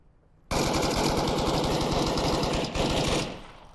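Sustained automatic gunfire in the VR shooter game Onward, a loud rapid burst of closely spaced shots lasting nearly three seconds, with a brief break near the end before it tails off.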